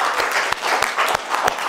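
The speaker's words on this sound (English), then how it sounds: "Let's clap those hands together for the Lord." A church congregation claps hands together during a worship service, a dense, steady wash of many hands with a few sharper claps standing out, loud and close, with no talking.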